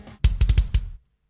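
A kick drum sample from a free drum plugin hits five times in quick succession, close and punchy with a sharp click on each beat, then cuts off into silence.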